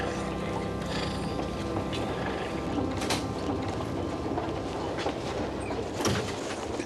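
A train runs along rails with a steady rumbling roll, mechanical rattling, and periodic clacks and squeals from the wheels, moderately loud and continuous with no talk.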